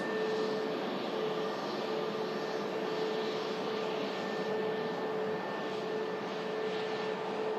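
A Pegasus Airbus A321neo jet taxis past at Manchester Airport, a continuous, moderately loud engine whine and rumble with steady humming tones, no talking.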